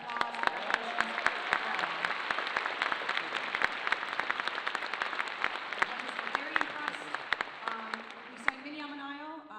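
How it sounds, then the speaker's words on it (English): A concert audience at a spring school choir concert applauds steadily for the whole stretch, a dense crowd clapping with a few sharp close claps standing out, and some murmured voices underneath. "So give them a great round of applause."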